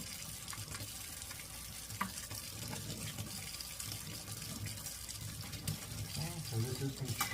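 Tap water running into a sink during manual washing of surgical instruments in a decontamination area, a steady hiss with splashing and scrubbing, while someone talks over it.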